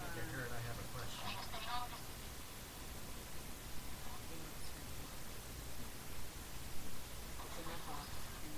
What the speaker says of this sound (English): an AM FM radio that's been modified just to pick up white noise